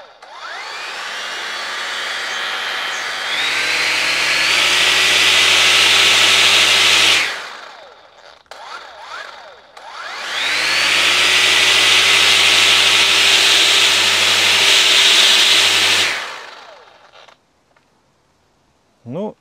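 A grass trimmer fitted with a cutting attachment revs up loudly twice, each time holding a high buzzing whine for several seconds before winding down, with a short lull between runs, close by.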